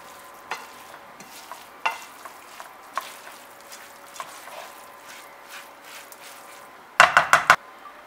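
Chopped leaves and a tomato-paste mixture sizzle softly in a pan while a spoon scrapes and stirs it at irregular intervals, ending in a quick burst of four loud scraping knocks close by.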